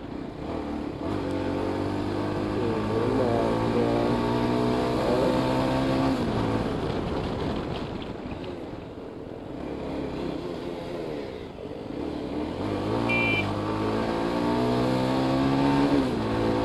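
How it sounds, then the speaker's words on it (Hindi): Cars race each other on a road during a journey from Kishtwar to Kashmir. Engines rev up and down in repeated rising and falling surges, loud and close, under a continuous roar of traffic. "ये देखो रेस लगा रहा अभी अलमास के साथ"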